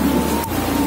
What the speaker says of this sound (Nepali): हावाहुरी चलेर पानी पनि परेको छ